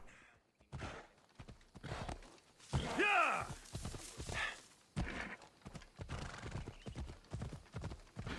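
Rhythmic clip-clop of hooves on a hard surface in Assassin's Creed Odyssey, with a horse whinnying partway through, steady pace, close by.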